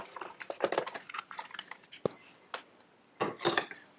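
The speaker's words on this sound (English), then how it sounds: "We'll put 1 scoop of ice in" Crushed ice is scooped into a glass for a mint julep, making a cluster of close, crunchy clinks and rattles, then a few sharper knocks and a final burst of clattering, with no talk.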